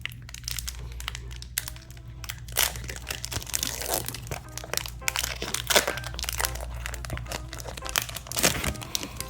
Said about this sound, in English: Let's open pack number 1 and see what we get.